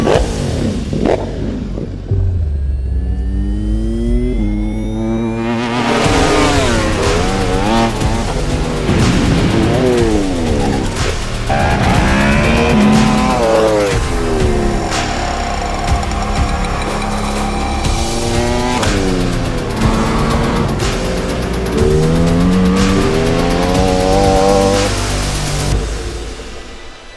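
Ducati Superleggera V4 motorcycle engine, loud and close, revving hard through repeated rising climbs and drops as it accelerates and shifts, with a brief quieter start before the engine roars.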